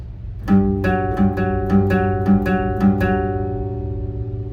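A guitar plays a pattern, with picked notes alternating between the 6th and 4th strings in a steady, even rhythm of about eight plucks. Each first note lands slightly heavier, and the last notes ring out. The playing is close and clear, with no talking.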